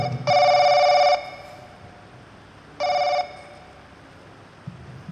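A mobile phone rings in a church during a Sunday school meeting, with two loud electronic bursts separated by a pause, followed by faint background noise.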